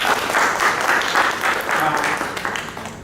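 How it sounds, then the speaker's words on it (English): Audience at an innovation talk gives sustained applause, a dense steady patter of many hands clapping at once, with some voices mixed in. "give yourself a huge round of applause"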